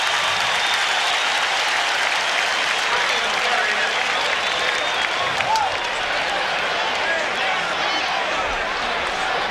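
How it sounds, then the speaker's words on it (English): Large stadium crowd at a 1985 Washington Redskins at Chicago Bears football game, a dense continuous roar and cheering sustained loudly throughout, with a broadcast voice faintly under it. "The crowd aroused on the hit by Marshall and Richardson"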